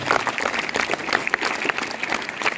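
Applause for science teachers from a school audience at a National Science Day event, dense continuous clapping from many hands throughout.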